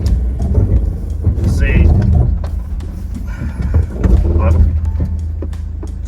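A 4x4 climbs a dirt hill track on WoodsPoint Rd toward Woods Point, the engine labouring with a low, steady rumble while the tyres slide on loose dirt, and someone talks over the noise.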